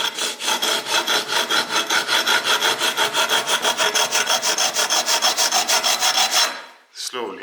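Sanding a guitar neck with rapid, even back-and-forth strokes, close and loud in a steady rhythm for about six seconds before stopping abruptly.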